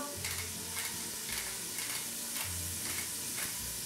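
Onions and garlic frying in juices from beef ribs, a dense, steady sizzle with periodic stirring scrapes repeating about once a second, close up.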